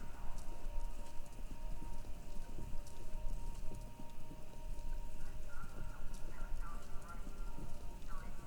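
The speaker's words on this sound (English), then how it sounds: "Oh, and there are some horses." Horses clip-clopping over a radio broadcast in Kentucky Route Zero, a busy continuous patter of hooves mixed with crowd-like murmur, moderately loud and steady throughout.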